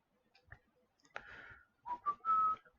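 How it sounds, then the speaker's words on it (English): A person whistles a short tune indoors, a few clear pitched notes that rise and hold, fairly close and alone with no talk. "Sorry, I shouldn't be whistling while recording."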